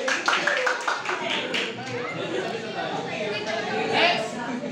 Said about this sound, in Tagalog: Palakpak! Palakpak!